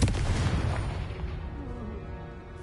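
A Confringo blasting spell in Hogwarts Legacy goes off as a single loud explosion, a heavy boom that decays over a couple of seconds, with no talk.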